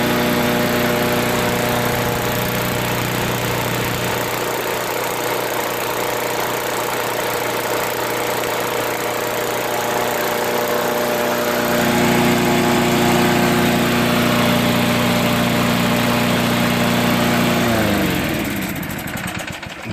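A Craftsman Eager 1 5 hp push lawn mower's small engine runs at a steady, loud drone with even harmonics, shifting slightly in pitch partway through before slowing and winding down near the end.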